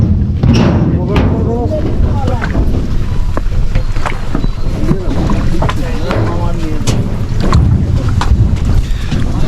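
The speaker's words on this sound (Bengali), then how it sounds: "আমরা এখান থেকে নৌকা নিয়েছি।" A boat ride on the water in Sylhet heading toward Ratargul, with steady engine and water rush buffeted by wind noise, people talking throughout over the continuous loud drone.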